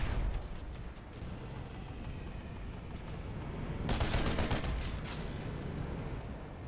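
Distant gunfire from a tower in the PlanetSide 2 online shooter, heard as a steady rumbling fusillade under constant engine drone, with a louder cluster of rapid shots swelling midway.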